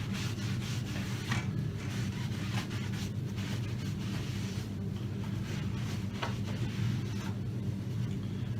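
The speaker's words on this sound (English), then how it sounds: "simply roughen that top surface with 150 grit sandpaper" Close, steady rubbing of 150 grit sandpaper across a Mirostone countertop surface, a continuous scratchy rasp with slight back-and-forth strokes and no talking.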